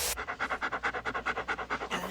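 Hayate the dog panting fast and close, a steady string of about fifteen quick breathy huffs in an even rhythm with no talking.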